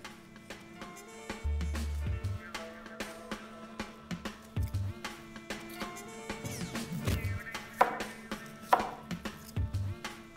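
Onions and cherry tomatoes are sliced for a chicken burger: a series of knife taps on a cutting board, some in quick runs and some single, over a soft background hum with faint bursts of other sound.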